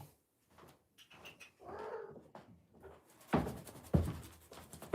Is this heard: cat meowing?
yes